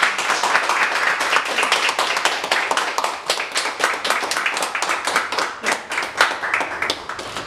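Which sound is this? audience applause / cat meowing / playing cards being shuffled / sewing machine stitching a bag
audience applause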